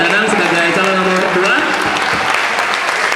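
Sustained audience applause at a student executive board (BEM) presidential candidate debate, a steady, loud clapping wash filling the room with faint crowd noise mixed in.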